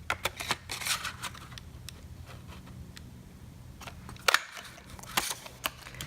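A 1.5 inch circle punch cuts stamped paper in a few sharp, close clicks and snaps, with faint rustling between them and no talk.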